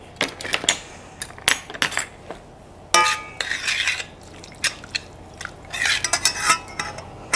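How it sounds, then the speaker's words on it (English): A spoon scrapes and clinks against a pot while a mixture of meat, broth, cider, tomato paste, brown sugar and molasses is stirred, with quick irregular metallic knocks and scrapes close up and no talking. "Actually, no, I'm gonna mix it first."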